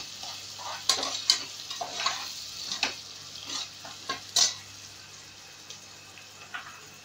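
Green chillies, four of them, stirred and sizzling in a pan of hot oil for meal maker biryani, with a spoon scraping in irregular strokes over a steady background hiss.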